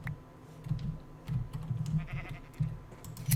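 Sheep bleating in Minecraft, including a black sheep, come as a few short soft calls over a low steady background hum, with faint clicks scattered between them.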